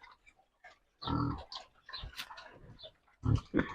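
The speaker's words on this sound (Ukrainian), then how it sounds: "Такі вони маленькі свинки." Piglets grunt and snuffle close by in short, irregular bursts, with a little chewing between grunts.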